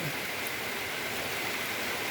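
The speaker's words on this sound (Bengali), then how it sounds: "চারিদিকে শুধু বৃষ্টি আর বৃষ্টি" Steady rain pours on an afternoon, a dense, even hiss that holds without a break for the whole stretch, with nothing else standing out above it.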